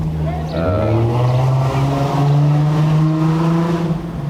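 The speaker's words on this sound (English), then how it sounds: "The dirt bikes and the loud cars that you just heard, they should crack down on those too." Loud cars and dirt bikes pass along a downtown city street in Lowell, an engine drone rising and sustained for several seconds, close and dominant, with a voice talking faintly beneath.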